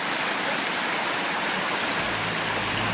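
Spring water pouring steadily from a source in native forest in south-central Chile, a continuous close, loud rushing wash that holds even, with a slight low-end shift near the end.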